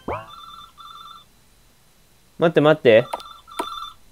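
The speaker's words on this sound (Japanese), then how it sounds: "電話が来たよ。" A telephone rings in a Japanese horror video game, a repeated electronic bell in short bursts, first alone and then continuing under and between a player's brief speech.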